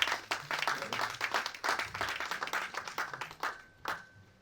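A congregation in a French-speaking church service claps and applauds together, a dense run of close hand claps that fades out near the end.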